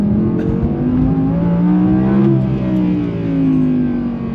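An Audi R8 engine revs loudly and climbs in pitch toward 8,700 RPM, with a throaty, sustained roar heard up close.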